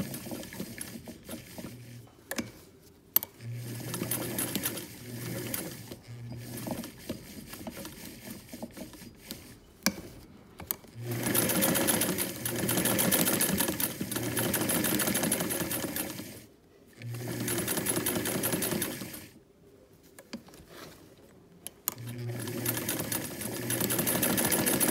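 A sewing machine stitching fabric runs in loud, rapid mechanical bursts that start and stop repeatedly, with short silent pauses between runs.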